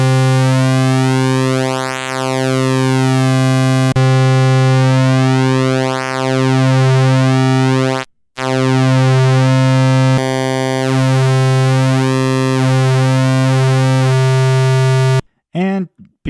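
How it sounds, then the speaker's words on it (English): A Doepfer VCO plays a bright, buzzy pulse-wave synth tone whose timbre sweeps and shifts as the pulse width changes, with brief dropouts and a short squelchy burst near the end. "Now let's go to a pulse wave."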